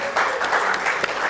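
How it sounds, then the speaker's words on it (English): Live studio audience applauding at the close of a talk show taping, a short burst of clapping from a modest crowd that swells quickly and holds steady. "Y'all give yourself a round of applause."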